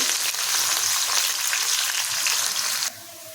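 Green chilies, onions and curry leaves sizzle loudly in hot oil in a steady bright hiss that cuts off abruptly near the end, leaving a quieter simmer.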